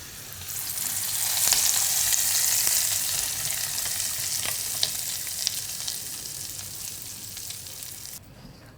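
Hot oil tempering with cumin, asafoetida, red chilies and curry leaves is poured over cooked masoor lentils, bursting into a loud, close sizzle that swells quickly and then slowly settles over several seconds.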